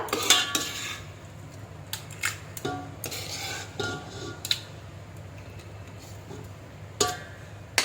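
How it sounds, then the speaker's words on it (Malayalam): Prepared prawn curry is added to a biryani pot in a kitchen, with scattered clinks and scrapes of a metal spoon against the pot over a low steady background, loud taps standing out alone. "നമ്മൾ തയ്യാറാക്കി വെച്ചിരിക്കുന്ന കൊഞ്ചിൻ്റെ കറി ഇതിലോട്ടിട്ട് കൊടുക്കുക"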